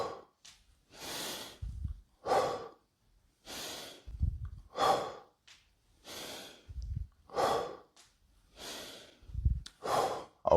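Heavy rhythmic breathing during squat reps, with about ten sharp exhale-and-inhale cycles repeating every second or so, some with a low snort. It is close and fairly quiet, and no one speaks.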